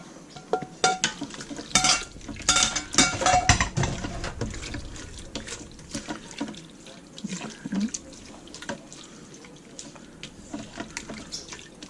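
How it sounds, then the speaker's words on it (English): Beef and saved broth poured into an Instant Pot, splashing liquid and clinking pot sounds close by, with irregular bursts of pouring and stirring, no talk. "Go ahead and add your beef along with all the broth that you saved."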